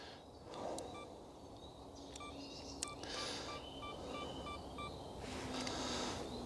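A camera's 10-second self-timer beeps in a bluebell woodland, a regular series of faint, evenly spaced electronic pips over soft outdoor ambience and distant birdsong, with no speech.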